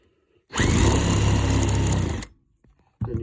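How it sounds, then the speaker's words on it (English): A power drill running in reverse whirs loudly and steadily for under two seconds, then spins down and stops, followed by a brief clatter. "if you put the drill in reverse,"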